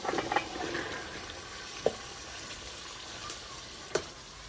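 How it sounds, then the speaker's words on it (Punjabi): Potatoes and peas tipped into frying masala in a home village kitchen give a steady soft sizzle, with a few sharp clinks and bumps of a utensil against the pan standing out over the frying. "ਆਲੂ ਮਟਰ ਜਿਹੜੇ ਆ ਨਾ ਉਹ ਮੈਂ ਧੋ ਕੇ ਆਈ ਆ, ਇਹ ਪਾਵਾਂਗੀ"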